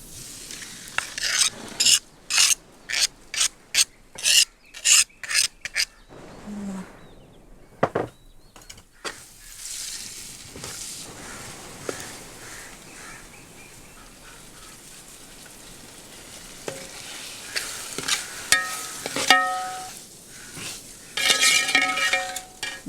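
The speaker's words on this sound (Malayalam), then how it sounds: "ഇളക്കിക്കോ അമ്മായി." Chicken frying in a pan for chicken pottitherichath, with an opening run of rapid, sharp stirring scrapes and taps, then a quieter stretch of sizzle, and a later burst of clatter and crackle.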